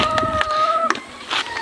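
A chicken gives a few short, high calls nearby, with some faint background noise between them.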